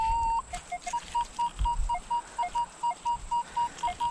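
A metal detector sounds a repeating series of short, clear electronic target tones, steady beeps pulsing in rhythm at moderate volume with a faint background.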